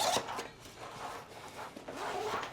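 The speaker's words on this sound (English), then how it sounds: "Then you have the double zippers for this compartment right here." Double zippers on a modular backpack compartment being pulled open, giving a few close, scratchy rasping zips with brief pauses between pulls.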